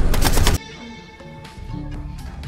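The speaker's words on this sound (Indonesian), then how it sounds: "tiba-tiba Si Woo-jin datang kembali dan memberondongnya dengan senjata berpeluru paku" Nail gun from a film scene fires in a loud rapid burst of repeated shots at the start, then stops, leaving low rumbling and tonal background sound.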